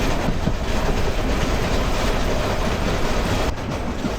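Probal Express train speeding along the rails with a loud, constant roar and rattle, heard up close from onboard.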